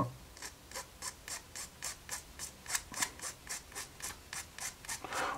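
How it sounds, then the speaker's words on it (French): A damaged fire truck model kit part, from a Tower Ladder 9 kit, being filed by hand: a steady run of about sixteen short, even rasping strokes, close and fairly quiet, with no talk. "On va mettre un petit coup de lime parce que il est un petit peu abîmé."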